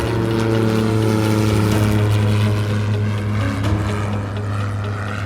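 A small airplane takes off from runway 5 at Fort Wayne, its propeller engine a steady, loud, close drone that holds evenly throughout with no talking over it.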